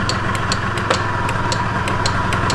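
A Honda Elite scooter engine runs steadily after being repaired, a loud, close, continuous mid-pitched drone with a regular putter and no speech.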